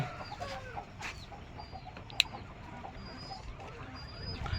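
Native chickens and roosters clucking softly at a distance inside a poultry shed, scattered chirps and murmurs with one sharp click partway through.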